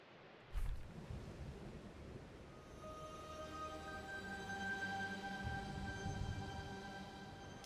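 Thunder in a lightning storm in the video game Tunic: a sharp crack near the start gives way to a long, low rolling rumble over steady rain, with a faint sustained musical drone.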